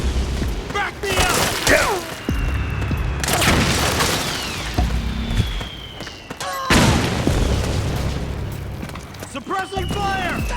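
Gunfire and heavy explosions from the video game Metal Gear Solid 4 during a firefight on mansion grounds: loud booming blasts and bursts of shots in repeated waves, with game voices shouting over the combat.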